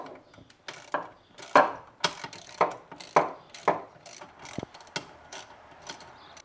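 A hand ratchet backs out the water pump bolts on an outboard motor's lower unit, giving a close series of loud rhythmic clicking bursts roughly every half second, with no speech.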